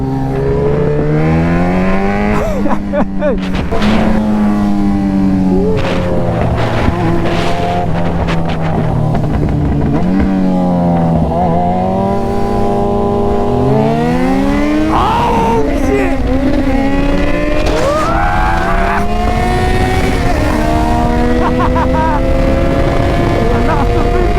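A Yamaha XJ6 600 motorcycle engine revs loudly on a London ride, pitch rising and dropping through repeated gear changes, under heavy wind buffeting, with a voice speaking over it at times.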